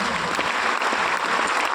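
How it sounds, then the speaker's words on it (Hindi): Dense audience applause fills the room at a training session, steady and loud throughout with no voices over it. "बहुत बड़ी ताली होनी चाहिए अपने लिए, ताली"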